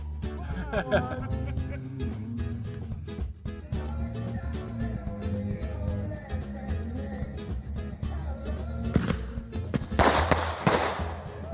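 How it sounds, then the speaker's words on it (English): Sharp crackling bursts and pops of fireworks set off in a backyard near the end, following a stretch of busy outdoor noise with people talking and cheering. "my brother-in-law was lighting off fireworks in the backyard"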